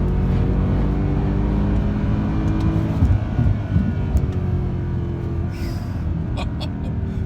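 A 2013 Mercedes C63 AMG engine drones strongly as the car is driven through a corner, a loud, steady low rumble with a brief surge midway before easing slightly.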